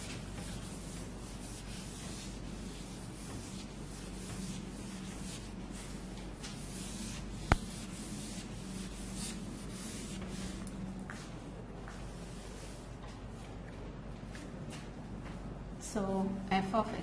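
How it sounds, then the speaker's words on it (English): Someone erases writing from a board with steady, faint rubbing strokes that carry on for a long stretch, ending with a few louder scrubs, and a quiet voice is heard near the end. "let me erase everything and just write the expansion"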